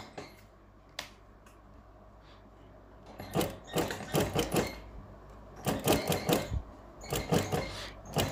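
Sewing machine stitching the collar of a Punjabi-style garment in soft, limp gam fabric, working in short, uneven clattering bursts with a faint quiet stretch before them.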